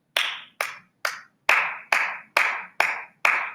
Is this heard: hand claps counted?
yes